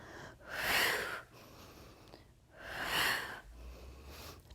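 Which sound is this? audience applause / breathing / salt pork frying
breathing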